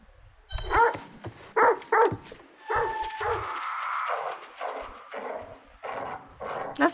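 A dog in the horror game The Devil in Me barks in a string of sharp, loud bursts with yelps and whines between them, close and alone with no talk.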